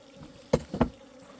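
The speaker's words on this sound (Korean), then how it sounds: "서양종 꿀벌도 도봉을 들어옵니다." Western honeybees robbing a beehive buzz close by, two short, loud passes about a quarter second apart, rising over a faint background hum.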